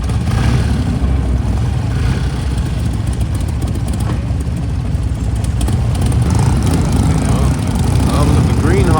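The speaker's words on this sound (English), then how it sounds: "sounds like a Harley rumbling over there." A deep, steady Harley-Davidson motorcycle engine rumble carries on throughout, fairly loud, with traffic-like noise, a little wind and some revving, at a classic car and bike breakfast meet.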